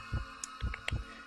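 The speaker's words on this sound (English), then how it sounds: "of the heartbeat sound effects" A heartbeat sound effect from the game Cataclysm: Dark Days Ahead gives three deep, muffled thumps in a steady rhythm over a low hum, with soft higher ticks between beats and no speech.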